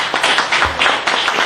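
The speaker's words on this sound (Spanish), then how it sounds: "vamos a darle este aplauso no solo a Carrión, sino a los compañeros de Elma" Audience applause after a talk, a short burst of steady, fairly close hand clapping that carries on evenly for a second or so.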